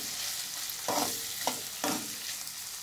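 Paneer pieces frying in a pan with salt, chilli powder and turmeric over a medium flame: a constant close sizzle broken by three scraping stirs of a spatula, with no voices.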